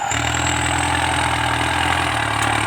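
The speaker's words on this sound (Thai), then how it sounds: "เสียงเทอร์โบนี่ไม่ต้องพูดถึงครับ เสียงเพาะมากครับ" A Ford 6610 85-horsepower farm tractor with a turbocharger idles steadily close by, a continuous low diesel rumble with a thin turbo whine on top, unbroken and alone for the whole stretch.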